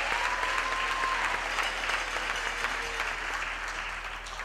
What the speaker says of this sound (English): can we have a second round of applause for the choir master,